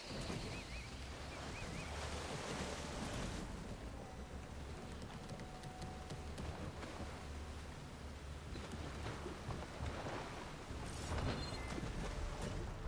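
Steady ocean surf and rushing water with wind noise as a boat moves across the sea in Horizon Forbidden West, a continuous wash throughout with no voices.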